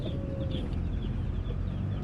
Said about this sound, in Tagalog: May mga manok dito maliliit oh,